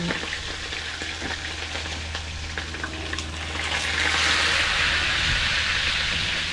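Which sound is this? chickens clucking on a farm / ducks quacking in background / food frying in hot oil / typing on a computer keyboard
food frying in hot oil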